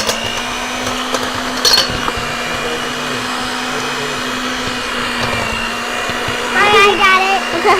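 An electric beater whirs steadily through chocolate chip cookie dough for unicorn cookies, a loud continuous motor drone with a slight pitch wobble and a brief clatter near the end.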